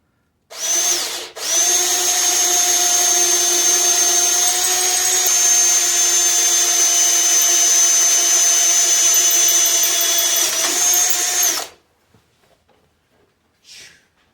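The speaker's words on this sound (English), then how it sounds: "I did buy a right angle drill for this" A right angle drill boring a hole for bottle bosses in a bicycle frame whirs steadily for about ten seconds with a high, even whine, then cuts off, leaving near silence and a brief faint noise.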